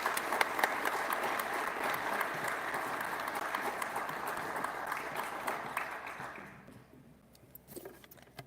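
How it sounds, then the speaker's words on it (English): An audience at a school event applauds young leaders, a steady broadband clapping that fills most of the stretch before tapering off to a few scattered claps and quiet. "Let's give them a round of applause."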